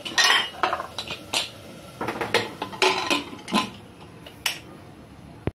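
Metal pots, cutlery and utensils clink and clatter in a home kitchen as a pressure cooker of spiced mutt on (gosht) is set up, giving a string of sharp, close knocks and rattles with brief pauses between them.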